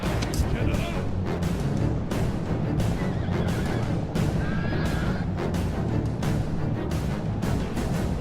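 Horses neigh and whinny amid the din of a video game battle, several calls rising over a dense, constant roar of combat noise while someone talks over it.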